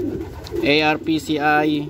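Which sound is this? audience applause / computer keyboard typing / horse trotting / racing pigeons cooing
racing pigeons cooing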